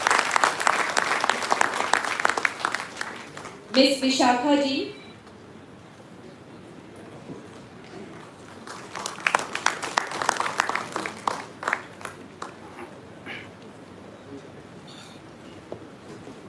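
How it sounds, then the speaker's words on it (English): An audience applauding at a Swami Vivekananda Jayanti and Young Advocates Day ceremony, with dense clapping at the start, an announcer speaking, then a second burst of applause that trails off into scattered claps. "huge round of applause for them."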